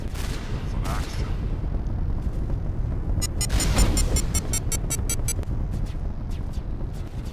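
Shotgun blasts and rapid weapon fire in a Mass Effect firefight, a dense burst of repeated sharp shots in the middle over constant loud battle noise and low rumble.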